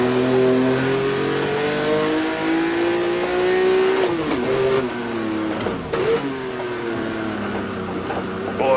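Engines of 1958 Formula One race cars in the racing game Automobilista whine steadily, rising and dipping in pitch through gear changes, with loud revving throughout and brief rattling bursts near the middle.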